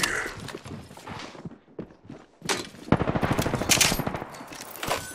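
Video game gunfire: bursts of rapid shots and impacts that get denser and louder in the second half of the clip, preceded by scattered footstep-like taps and brief pauses. No one speaks.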